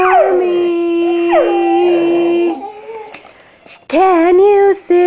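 Maggie the dog howls on request, a long, wavering, sung howl that rises and falls, breaks off into a brief quiet whimper, then returns with a second loud, close howl.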